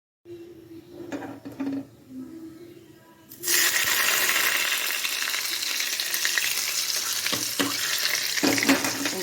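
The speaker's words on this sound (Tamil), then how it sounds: "இப்படி சூடாக போக ஊற்றணும். கொஞ்சம் தாராளமாக தான் இருக்கும் எண்ணெய்" Hot oil is poured generously over garlic chutney and bursts into a loud, steady sizzle partway through. Softer stirring and handling sounds come before it, and the crackle stays dense and close to the end.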